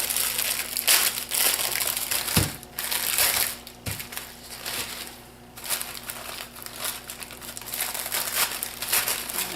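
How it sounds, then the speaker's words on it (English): Graham crackers being crushed inside a gallon-size plastic zipper bag, a continuous crinkling and crunching with a few sharper thumps, close by and alone. "So I take a gallon size Ziploc bag and take my graham crackers."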